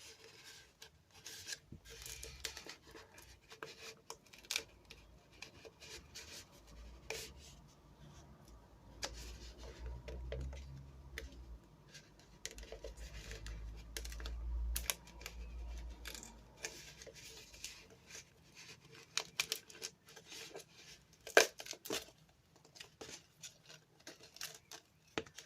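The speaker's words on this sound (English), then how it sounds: "So I'm just going to start peeling out these bits." Dried acrylic paint skins being peeled off silicone, giving faint, close crinkly rasping and small ticking pulls scattered irregularly through a quiet room, with no talking.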